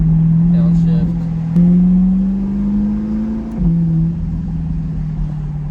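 Chevrolet C8 Corvette with AWE exhaust, a loud droning engine note held near a steady pitch, rising slightly, then sharply cutting back and bouncing on fuel cut before settling; a voice talks over it briefly.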